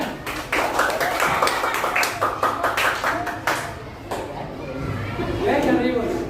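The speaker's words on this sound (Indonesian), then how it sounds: "Tepuk tangan" A classroom group claps hands together in a lively burst of sharp, uneven claps, close and loud, tapering off as voices and chatter take over toward the end.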